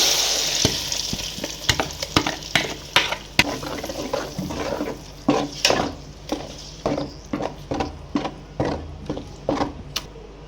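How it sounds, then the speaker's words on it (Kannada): Masala tipped onto onions frying in hot oil for a Katla fish curry, giving a steady close sizzle broken by repeated sharp scraping and stirring strokes. "ಫ್ರೈ ಆಗಿದೆ, ಮಸಾಲೆ ಹಾಕ್ತಾಯಿದ್ದೀನಿ."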